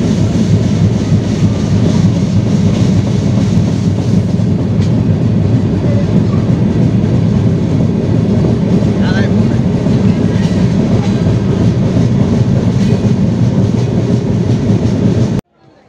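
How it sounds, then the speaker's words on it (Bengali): A train pulls out of Jessore Junction station, its loud steady rumble and rattling carriages filling the interior before cutting off abruptly at the end. "আমাদের ট্রেন ছেড়ে যাচ্ছে যশোর জংশন স্টেশন"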